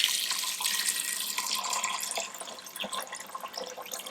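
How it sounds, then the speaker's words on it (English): Water runs from a tap into a pot of butter beans, a continuous splashing pour that softens and thins toward the end, close and alone without talk. "And then I'm going to cover them with water."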